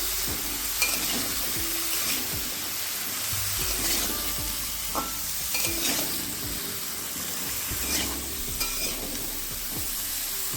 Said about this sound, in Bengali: এই হলুদ লবণটা দিয়ে ওলকপিটাকে ভালো করে মিশিয়ে নিতে হবে